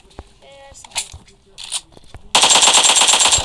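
Rapid automatic gunfire from the mobile battle-royale game PUBG Mobile, a loud sustained burst in the second half after scattered quieter shots and game sounds, with people talking around it.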